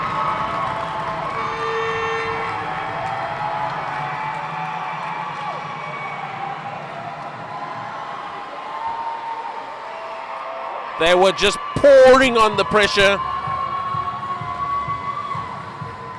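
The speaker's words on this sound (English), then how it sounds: "and the crowd explodes" Ice hockey crowd at a Division IIB world championship qualifier erupting in loud cheers after a goal, a sudden surge of shouting and roaring over steady arena noise, with a commentator talking throughout.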